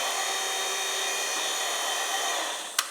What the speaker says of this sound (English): And I'll just turn this on. The conveyor belt's running.